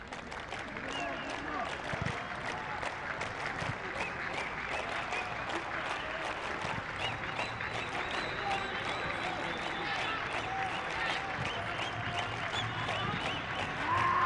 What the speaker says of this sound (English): The Afghan supporters on their feet, their flag waving, cheering constantly.